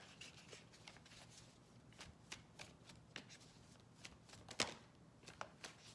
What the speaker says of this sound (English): Every time I've been shuffling, the 3 cards pop out at once.